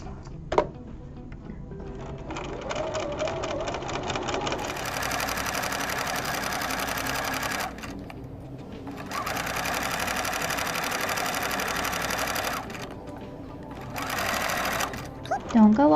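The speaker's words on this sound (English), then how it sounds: "Remember to use your forward and back stitch." A sewing machine stitches a fabric seam in loud, steady runs, stopping briefly between bursts, while someone talks over it.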